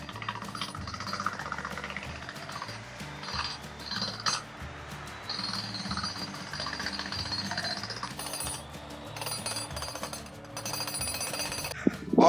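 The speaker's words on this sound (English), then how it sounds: "while the guys jackhammer some holes" Jackhammer breaking into limestone near a beach while building a concrete deck, rapid rhythmic pounding at a moderate distance with metallic clinks and pauses, continuing for several seconds.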